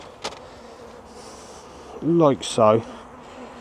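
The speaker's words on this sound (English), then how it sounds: "give our other bees, remaining bees that we have in here, just need to shake them off" Honeybees buzzing during a newspaper-method hive merge with a mated queen, a low steady hum under brief spoken words, then two loud close buzzing swells as bees pass near.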